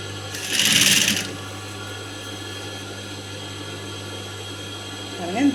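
A sewing machine stitches rolled piping onto blouse fabric with a short burst of fast whirring near the start, then a steady low hum, close by.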